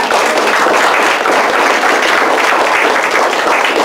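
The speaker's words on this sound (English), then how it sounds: "how about one of those big claps?" A reunion crowd of Carteret High School's class of 1957 bursts into dense, loud applause, many hands clapping together in a continuous wash throughout the few seconds.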